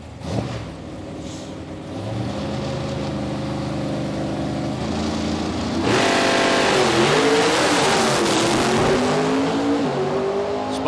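A drag racing car launches down the strip at Palmyra Dragway during test and tune, its engine note climbing steadily, then swelling into a louder, rougher roar as it pulls away.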